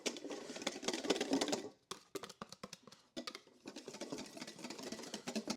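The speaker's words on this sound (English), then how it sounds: "we're gonna start with our egg yolks, and we're gonna start giving this a strong whisk" Egg yolks are whisked hard in a bowl, giving a close, fast, steady clatter of quick metallic ticks with a short pause partway through.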